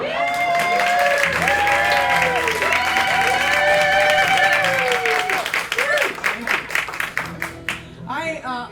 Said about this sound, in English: I'm still not used to applause, and it's just a wonderful thing to hear